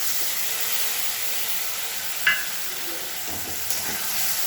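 Ginger, cumin, green chillies, cashews, Kashmiri chilli, salt and turmeric fry together in a pan, a constant hissing sizzle with a couple of brief scraping clicks from stirring, close and unaccompanied by speech.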